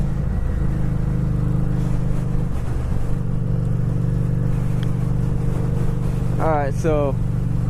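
A Kawasaki Vulcan 650 and a Harley-Davidson Street 750 run together with a steady, close low engine drone and no clear rise in pitch, while someone talks briefly over it.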